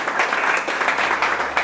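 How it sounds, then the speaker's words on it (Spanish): A church congregation claps in a dense, loud, sustained round of applause, steady throughout the short stretch with no talking. "darles una ofrenda de palmas a ellos"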